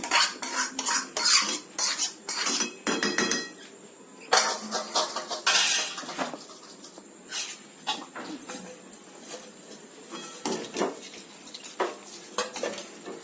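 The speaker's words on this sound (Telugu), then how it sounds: "అంతా బాగా కలపాలి" A spoon scrapes and clinks against a dish while tempering is mixed into a grated mango and semolina dish, producing busy metallic bursts with brief pauses.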